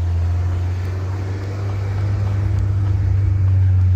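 Close, steady low engine rumble from a Honda S2000 accelerating, rising slightly in pitch toward the end, on a US road trip with a suspected driveshaft fault; no voices.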